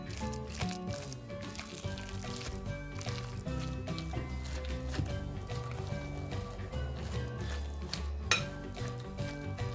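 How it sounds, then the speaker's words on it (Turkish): Spoon stirring a raw celery salad with mayonnaise and strained yogurt in a bowl, soft wet squishing and occasional clinks against the bowl, faint and continuous beneath steady background music, with no voices. "Ardından bütün malzemelerimizi güzelce karıştırıyoruz."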